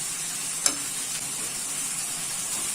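Spiced ingredients being stirred together in a pan with black pepper, ras el hanout and paprika: a steady, soft sizzling hiss throughout, with one brief sharp clink of a utensil near the start.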